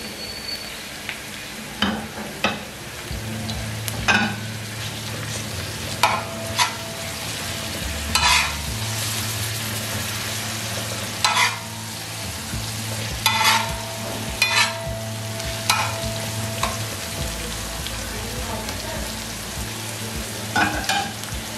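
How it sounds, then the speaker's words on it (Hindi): Chopped garlic and ginger fry with onions in a pan, giving a steady sizzle broken by repeated scraping and stirring knocks, close and alone with no talking. "लहसुन अदरक भी मैंने हल्का सा फ्राई कर लिए।"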